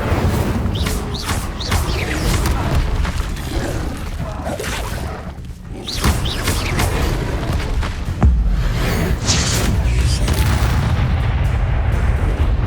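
Fiery spell blasts from Incendio in the video game Hogwarts Legacy, with bursts and booming whooshes over dense game sound, loud and continuous throughout.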